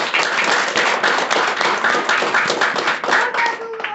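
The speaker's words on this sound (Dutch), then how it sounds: "Een applaus voor de heer Ligori" Audience clapping for a lecturer named Ligorie at a Dutch-language event, steady dense applause filling the room for about four seconds, loud and close with a few voices mixed in.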